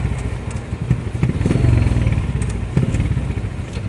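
A motorcycle engine rumbles steadily nearby, its low throbbing drone holding close and loud with faint mechanical clatter mixed in.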